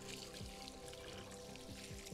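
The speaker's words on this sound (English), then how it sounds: "And I give these a quick rinse also," Dirty pumpkins getting a quick rinse, a brief, faint stream of trickling water with soft continuous splashing, heard alone.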